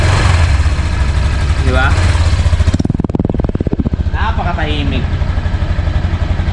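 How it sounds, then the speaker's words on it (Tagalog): A Honda Click 125 scooter engine idles close by with a steady, quiet putter, while someone talks over it throughout. "ito yung andar ng makina niya para doon sa hindi nakakarinig pa."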